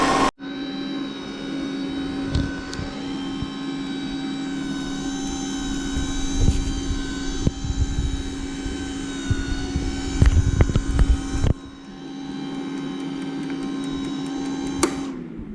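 A Cowsar ice cream maker running in ice cream mode gives a steady, even electric motor whine with a constant tonal hum, continuous for about fifteen seconds with occasional small clicks and knocks.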